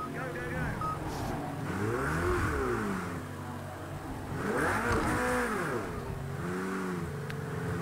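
A Ferrari race car engine in the Project CARS 2 racing game during a qualifying session, a loud continuous engine note that sweeps up and down through repeated revs and gear changes.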